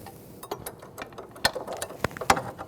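A ratchet wrench loosens an 18mm sway bar link nut on a 2012-2016 Honda CR-V, giving a series of sharp, close, irregular pawl clicks alone with no talk.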